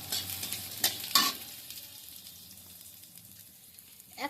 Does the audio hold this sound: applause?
no